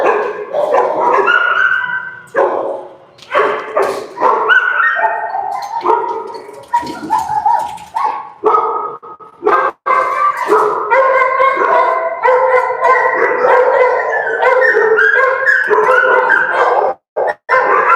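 Several dogs at a kennel bark, yip and whimper in a rapid, overlapping chorus, loud and close, keeping up almost without pause.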